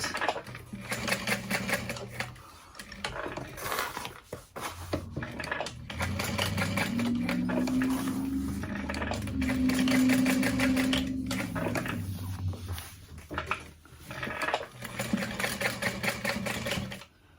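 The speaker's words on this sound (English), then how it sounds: "I'm just going to do a box stitch through this piece" A sewing machine box-stitches through a thick backpack panel, its steady mechanical whir running loud and continuous in the middle with shorter stop-start bursts before and after.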